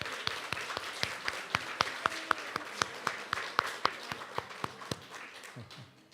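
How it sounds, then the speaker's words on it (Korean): A church congregation claps in welcome, with crisp, evenly spaced claps in a fast regular rhythm heard at moderate distance over a quiet room murmur. "우리 크게 환영의 박수로 맞이해 주시면 감사하겠습니다."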